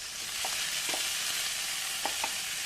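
Cooked beans, carrots and peas tipped into a pan of frying masala for vegetable upma, giving a steady hiss of frying with a few soft, brief stirring clatters scattered through it.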